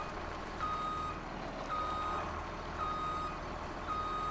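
Repeated reversing beeps from a truck backing up in the farming video game Farming Simulator 17, a steady rhythm of four evenly spaced high tones over a continuous engine rumble.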